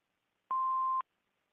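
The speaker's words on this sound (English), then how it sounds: "Please leave your name and phone number after the beep." A single answering machine beep sounds after a greeting: one clean steady electronic tone, about half a second long, loud and alone in otherwise silent surroundings.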